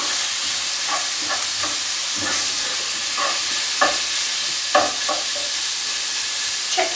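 Streaky bacon frying in a pan gives a steady, close hiss of sizzling fat, with small crackles and pops scattered through it and no voices.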